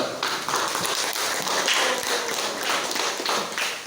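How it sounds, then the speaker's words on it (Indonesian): Classroom applause for a student group presenting in a school lesson: steady, dense hand clapping from many people, sustained throughout at moderate loudness. "Mari kita bersama-sama memberikan aplaus untuk kelompok 2"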